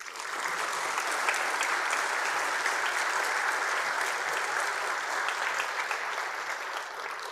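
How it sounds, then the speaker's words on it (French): Sustained applause from a large audience at a New Year's wishes ceremony for local development actors, a dense, even roar of clapping held steady throughout, heard from within the hall. "On peut l'applaudir."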